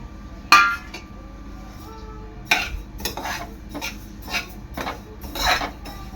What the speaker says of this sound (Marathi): तीळ आपले चांगले भाजून घ्यायचे आहेत